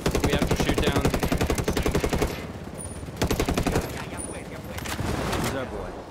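Sustained automatic gunfire aimed at a helicopter in Ghost Recon Wildlands, loud rapid bursts that stop, resume briefly, then give way to a rumbling roar, with a player's voice heard over the shooting.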